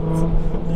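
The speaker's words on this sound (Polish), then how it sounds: "To jest bardzo głośny wydech." Jaguar F-Type S with a loud modified exhaust, 482 hp, revving in a short steady burst of deep engine drone heard from close by.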